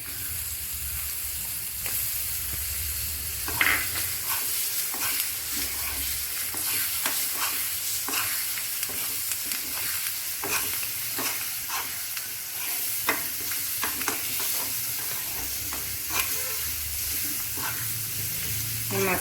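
Fish roe frying in masala in a pan, with a steady sizzle under repeated scraping stirs from a spoon, close and fairly quiet, continuing throughout.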